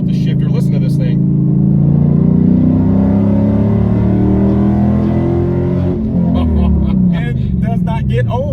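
A cammed Dodge SRT8/Scat Pack V8 with a manual gearbox revs loud and close, a deep lumpy rumble rising and falling in pitch, with someone talking briefly at the start and again near the end.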